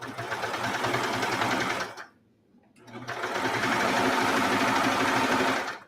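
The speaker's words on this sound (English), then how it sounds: "It is sewing the 2 layers together." A sewing machine stitches two fabric layers together while gathering the bottom layer, running in two long, steady, loud bursts split by a brief pause.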